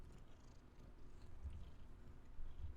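A pet cat named Missy purrs with her face pressed against a microphone, a faint low rumbling throb that is steady and close, with soft rubbing noises and no speech.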